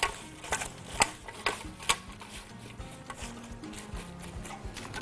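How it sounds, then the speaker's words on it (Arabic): A spoon scrapes and knocks around a bowl while ingredients are mixed, with soft irregular clicks and rubbing sounds at close range. "وابدا اقلب ده كله كده مع بعضه"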